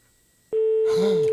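Telephone call placed during a live prize draw on air: after a brief hush, a loud, steady single-pitch tone switches on and holds, with a brighter line signal joining it.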